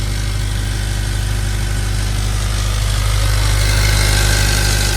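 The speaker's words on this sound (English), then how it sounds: "we just put a plug in there just so we can hear the engine a little bit better" Honda S2000 sports car engine idling nearby with a steady, deep, throbbing rumble that holds constant throughout.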